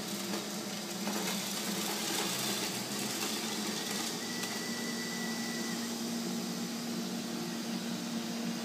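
A Neato XV robot vacuum runs over scattered oats, giving a quiet steady motor hum with a tonal whine and faint intermittent rattles and clicks as debris is picked up.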